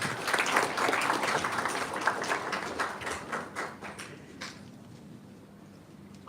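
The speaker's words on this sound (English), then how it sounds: "Let's give them a big round of applause" An audience at a science symposium claps in a dense burst that thins into scattered claps and fades to near silence, ending with a sudden loud knock.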